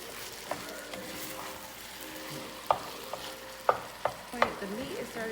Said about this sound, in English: The meat is starting to brown up